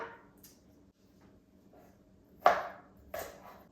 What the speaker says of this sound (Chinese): 我把姜切成了小块儿。